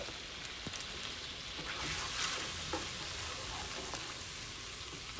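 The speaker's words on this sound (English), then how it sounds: "let me melt my butter down first" Butter melting in a pan gives off a steady, soft sizzle with faint crackles and pops, a continuous frying hiss with no one speaking.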